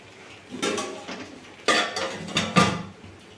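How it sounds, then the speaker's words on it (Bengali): Metal pot clatter as a lid goes onto a home-cooked prawn pulao with the gas off, a few close clinks and scrapes spaced over a few seconds, no voices. "আমি এখন গ্যাসটা অফ করে এটাকে ঢাকা দিয়ে"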